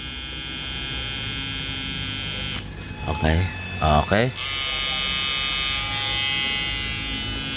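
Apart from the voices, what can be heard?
blower of an inverter fishing machine running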